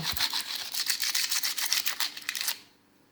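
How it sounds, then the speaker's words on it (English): Coarse sandpaper scrapes across glass in quick, rough back-and-forth strokes, close and fairly loud, then stops abruptly near the end. "You can hear it kind of snagging and dragging over the glass now."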